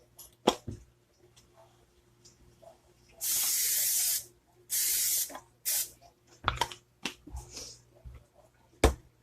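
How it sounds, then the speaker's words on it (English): Two short hissing bursts from an aerosol can of cooking spray into a pan, each about a second long, amid scattered clicks and light handling noises. "I'm going to give it a little spray with this cooking spray"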